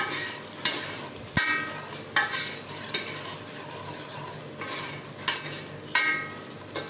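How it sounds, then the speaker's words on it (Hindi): Onion frying in oil crackles with a dense, close hiss, punctuated by sharp spoon-against-pan strikes roughly every second as it is stirred. "ऑयल मैंने डाल के प्याज डाल दी"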